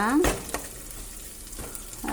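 Tempering spices, peanuts, green chillies and onion hitting hot oil in a home kitchen, a sharp sizzle burst with stirring clatter and a few spatula knocks, then a softer steady frying hiss.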